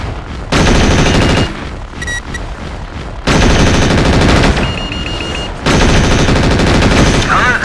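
Mechs fire heavy weapons in the Mechwarrior 4 video game, producing three loud, sustained bursts of rapid machine-gun fire separated by brief lulls with rumbling background noise.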